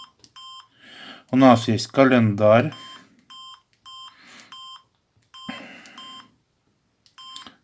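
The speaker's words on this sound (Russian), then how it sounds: "А когда вы бегаете по меню, пикает это." Short electronic beeps from a Samsung SGH X510 red clamshell phone sound as its menus are navigated, repeating in crisp tonal blips between and under a man's speech.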